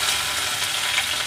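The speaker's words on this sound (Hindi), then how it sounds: "थोड़ी सी हींग डालूंगी, जैसी क्रैक होती है डाल दूंगी मैं इसमें कटा हुआ प्याज" Chopped onion hits hot oil with asafoetida and gives a brief, loud, even sizzle that runs as a dense hiss for a moment with no voices.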